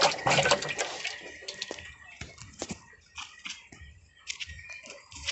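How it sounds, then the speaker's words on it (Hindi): Water in a fish farming container is stirred by hand, giving irregular close splashes and sloshing bursts, strongest at the start and then broken into scattered wet movements. "पानी को हिला देना।"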